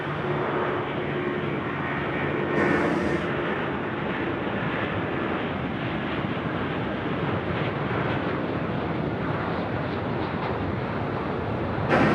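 Jet airliner engines roar steadily at night at Sydney Airport, a loud, continuous broadband rumble with wind buffeting, lasting throughout without a break.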